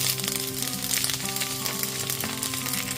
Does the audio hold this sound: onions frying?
yes